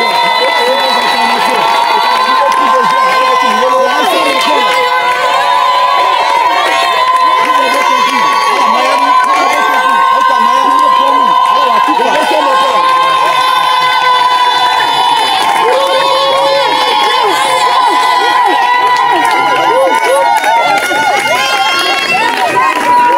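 A large, loud worship crowd at a Saturday mountain prayer gathering cheers and shouts continuously, a dense wall of voices that stays sustained throughout with no pauses.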